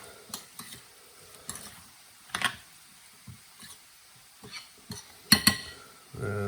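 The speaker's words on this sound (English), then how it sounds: "Mix that up." Stirring tomato sauce sweetened with caster sugar in a pan, with a spoon giving soft scrapes and several sharper clinks against the pan, plus a faint sizzle underneath.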